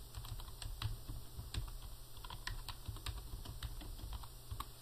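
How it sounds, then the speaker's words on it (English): Steady, rapid typing on a computer keyboard, quiet close key clicks in an irregular stream with no talking. "what I'm going to do is type in the name of a company"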